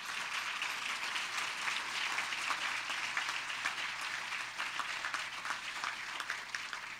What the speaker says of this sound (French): Vous pouvez les applaudir à nouveau.